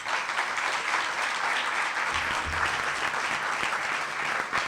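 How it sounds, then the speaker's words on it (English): An audience at a retreat session applauds steadily, a dense wash of many hands clapping at a constant level throughout, with no voices on top. "Let's all give her a big round of applause."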